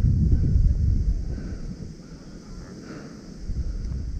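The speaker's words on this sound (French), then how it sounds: "Il y a du vent." Gusty wind buffets the microphone during an airsoft game, with low rumbling bursts, strongest at first, easing, then rising again.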